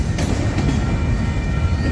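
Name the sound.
freight train passing on rails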